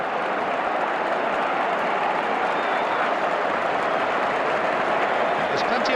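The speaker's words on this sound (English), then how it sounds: "There's plenty of applause ringing around Anfield" At Anfield during Liverpool v Tottenham in the 1993 Premier League, a big stadium crowd keeps up dense, continuous applause for several seconds, a steady, full wash of clapping and crowd noise with no break.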